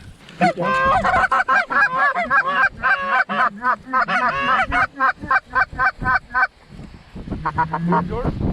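White-fronted geese honk loudly and close in a rapid, overlapping chorus of high calls that thins out near the end, where a low rumble takes over.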